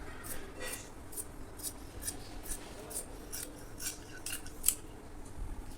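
Scissors snipping through fabric while cutting out a heavy-size Punjabi dress, a steady run of close, crisp cuts with small metallic clicks of the blades.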